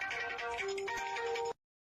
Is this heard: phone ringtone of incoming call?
yes